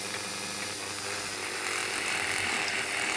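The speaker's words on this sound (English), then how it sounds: "we're just going to use this little Dremel tool here on a slow speed" A small Dremel rotary tool runs on slow speed, cleaning ingrained gunk from the inside of an Atomic coffee machine part. It makes a steady, dense, close whirring grind that holds without a break and never stops.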